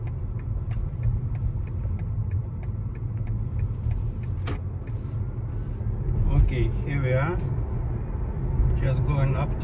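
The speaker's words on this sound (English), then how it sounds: "we are ready for the test drive" A BMW iX1 electric SUV driving on a space saver spare wheel, giving a steady low road and tyre rumble with regular faint ticking, while someone talks over it toward the end.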